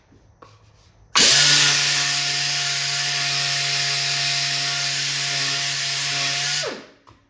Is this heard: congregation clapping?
no